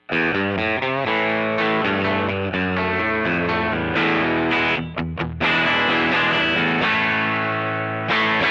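A 2015 American-made Fender Telecaster with a Broadcaster bridge pickup plays through a Freeway pedal into a Fender Hot Rod amp, giving a loud distorted tone with picked notes, chords and ringing sustain that runs continuously.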